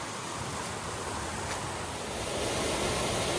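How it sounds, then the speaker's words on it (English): A small 10-foot waterfall pours into a pool along a forest hiking trail, making a steady, broad rushing roar that stays constant and close throughout. "Pretty sure this is our little 10-foot waterfall that's missing."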